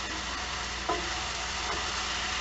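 Marinated beef stir fry sizzles steadily in a hot pan, a close, even hiss with a brief scrape of stirring partway through and no talking.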